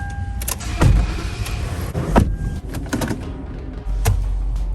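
Car interior while driving, with a steady low road and engine rumble, a few brief clicks and thumps, and a louder surge of rumble near the end; no talk.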